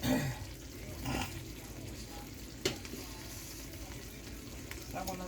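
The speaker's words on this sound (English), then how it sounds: "I'm gonna wait until they start to fry and you see the oil back" Green mango pieces fry in hot oil for a Guyanese-style spicy atchar, giving a steady soft sizzle throughout with a few brief clatters from stirring.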